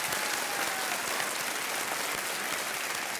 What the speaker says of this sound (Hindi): तालियों के साथ अभिनंदन किया